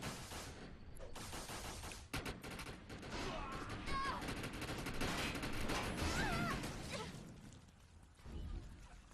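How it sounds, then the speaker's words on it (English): Light machine gun fire in Defiance PvP multiplayer rings out in long, dense, sustained bursts across most of the stretch, loud and near, with short pauses and faint voices under the shooting. "That was a light machine gun."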